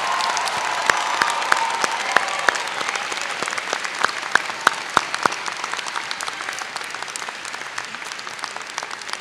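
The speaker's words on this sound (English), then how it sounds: "DDS graduates, one more round of applause" Graduation audience at a dental school ceremony giving a round of applause, a steady wash of many hands clapping with a few sharp individual claps standing out, moderately distant.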